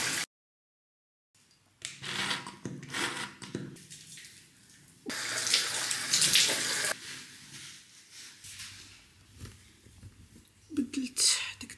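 Tap water runs while a face is being washed, coming in close, hissing bursts broken by short pauses, with soft rubbing and splashing between the flows.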